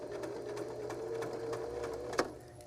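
A sewing machine stitches a small knot bag with a quick, steady mechanical whir and rapid needle clatter, close and fairly quiet, ending in a short sharp click as the stitching stops.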